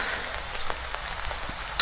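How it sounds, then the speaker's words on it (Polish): Heavy autumn downpour in a garden, a dense steady hiss of rain pattering on surfaces with scattered louder drops striking close by, continuous and fairly faint overall. "I tak leje już od 5 rano malać cały dzień"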